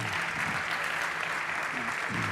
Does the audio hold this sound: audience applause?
yes